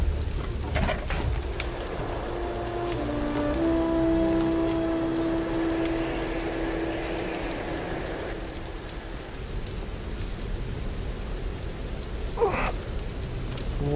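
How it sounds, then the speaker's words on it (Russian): Steady rain in the video game Tomb Raider, a continuous hissing downpour with occasional brief clicks and a faint low rumble, heard alone without talking. "сидеть под ветром, под открытым дождем, самое то"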